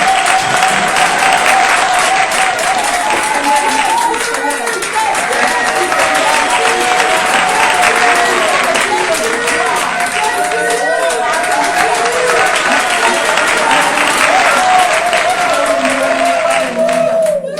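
A church congregation applauds and cheers at length, loud, dense clapping with shouts rising through it, and a voice with sustained musical tones carrying over the crowd throughout.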